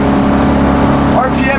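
A 1972 BMW 2002 engine revs up steadily after a downshift to fourth gear while cruising uphill, a loud continuous drone with a rising pitch sweep near the end and a voice talking over it.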